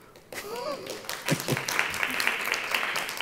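Audience applause after a talk on teaching, starting quietly and building into a steady spread of clapping from a seated crowd, with a few louder individual claps and faint voices mixed in.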